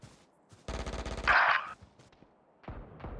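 Rapid automatic gunfire in a Valorant match, a fast burst of evenly spaced shots followed by a louder bright blast, then scattered quieter shots trailing off.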